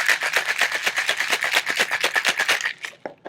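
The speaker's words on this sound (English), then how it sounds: "We're going to give that a nice little shake." A cocktail shaker rattles with pineapple and cranberry juice inside, giving fast, even, close-up shakes for about three seconds before it stops abruptly.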